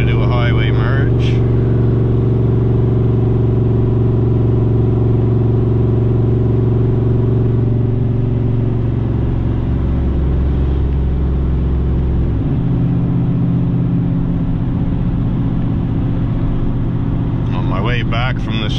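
A cammed 8.1 Vortec 496 big-block in a GMC 2500HD with an Allison transmission and 5.13 gears, hauling a heavy load while merging onto a highway. The engine drones low and steady, shifting pitch partway through as it pulls.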